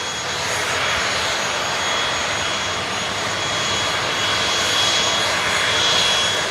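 Small airplane engine droning at Kushiro Airport in Hokkaido, a loud steady roar filling the air on the tarmac, swelling slightly toward the end with no voices.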